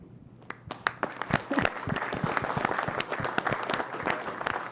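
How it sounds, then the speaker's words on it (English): An audience applauds after a speech at a climate finance talanoa, a steady wash of many hands clapping that swells from a few scattered claps into full applause. "I'm embracing the clapping as well."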